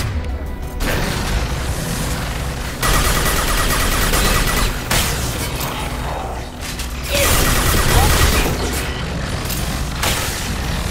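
Dense continuous gunfire and mechanical clatter in the video game Mass Effect 2, loud and steady for the whole stretch, with heavier bursts swelling and fading every few seconds.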